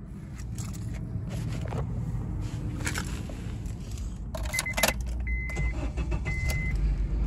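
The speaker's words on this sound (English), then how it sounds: "Car starts right up, no problems." A 2009 Honda CR-V with 124,000 miles runs close by as a steady engine hum, with a few brief clicks and rattles from the cabin over it and no talk.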